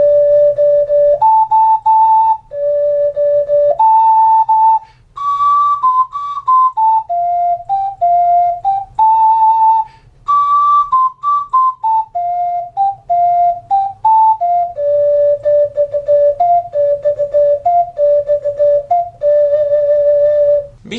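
A 6-hole ocarina plays Land of the Silver Birch, a clear, breathy, flute-like melody of separate notes in a syncopated rhythm with short pauses, close and loud with no voices.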